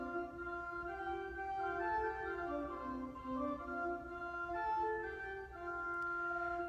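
The hymn tune Holy Manna played softly as a slow, sustained melody with held harmonies, quiet and smooth throughout with no voices.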